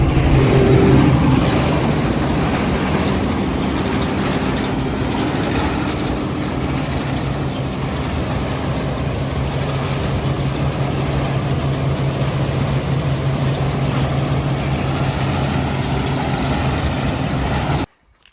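A Claas Mega 204 combine with a John Deere flex header runs steadily, its engine a continuous low drone with a rattling mechanical texture, close and loud throughout before cutting off abruptly at the end.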